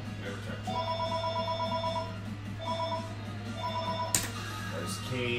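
A telephone rings in a repeated trilling bell pattern, several bursts over a steady low hum, with a sharp click near the end, moderately loud and close.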